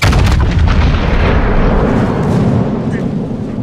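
Ship guns fire a broadside in a naval battle game, a loud, close barrage of heavy booms that rumbles and fades, with a voice audible underneath.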